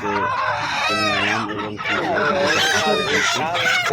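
Roosters and chickens at a busy poultry market cluck and crow continuously and loudly, several birds calling over one another at close range with a faint background murmur.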